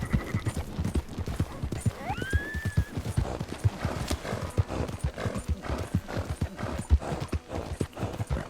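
Horse hooves clip-clop in a steady walking rhythm on approach to a town in Red Dead Redemption 2, close and continuous, with a brief whinny partway through and light rain-like background noise.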